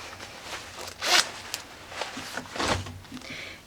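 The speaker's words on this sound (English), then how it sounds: "or you unzip it" A zipper running along the side of a coat's removable lining is pulled open in several quick, rasping strokes, close and clear, with short pauses between pulls.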